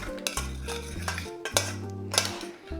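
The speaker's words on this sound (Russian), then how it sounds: "Перемешиваю." A utensil stirs salt into cooked asparagus, producing several sharp metallic clinks and scrapes against the dish in quick, uneven succession, close and clear with no talking.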